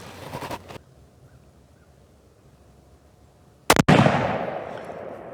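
Two sharp gunshots ring out at a shooting range, one at the start and another a few seconds later, each loud and close with a long echoing tail across the open air and quiet between them.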